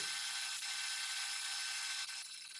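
A drill bit boring an 18.5 mm hole with a steady, high-pitched whirring grind that holds evenly for a few seconds and changes slightly near the end, close by and without talk.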